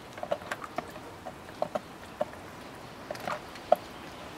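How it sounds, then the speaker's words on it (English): Rain on a camera in a wet outdoor setting with ducklings and palm trees, heard as scattered soft ticks and pattering drops of varying loudness, close to the lens, with no talking. "The rain dribbles on my camera,"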